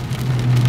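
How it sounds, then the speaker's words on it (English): Heavy, loud rain drumming steadily on a surface, briefly and close, with a low background rumble and no voices. "this rain is loud"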